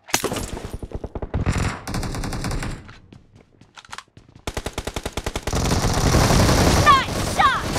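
Rapid automatic gunfire in the video game BGMI, loud close bursts of fast rhythmic shots broken by brief pauses, then a long sustained stream of fire with faint game voice chatter mixed in.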